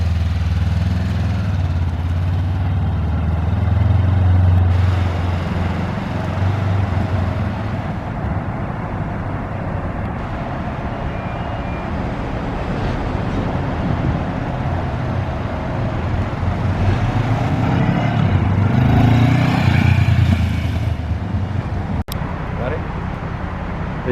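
A Honda CB500X motorcycle on a test ride gives a steady mid-pitched engine drone mixed with wind and road noise, rising and falling slightly with revs, with someone talking over it.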